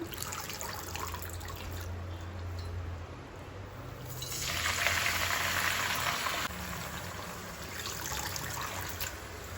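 Washed gongura leaves boiling in a pot of water, a steady bubbling hiss with a brighter, louder surge in the middle, close by and without any talk.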